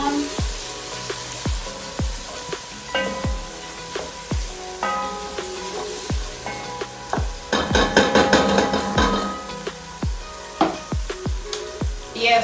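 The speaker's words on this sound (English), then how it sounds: "as I'm waiting for my onion to turn golden brown before I put my meat" Onions fry in a pot for beef stew, a steady sizzle running under repeated sharp scrapes and knocks of a utensil stirring against the pot, louder and busier toward the middle.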